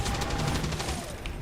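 A flashbang grenade bursts in the XCOM 2 video game, a loud, dense, crackling blast with a low rumble filling the whole short moment.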